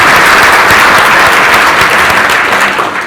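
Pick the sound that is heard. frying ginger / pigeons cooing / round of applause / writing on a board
round of applause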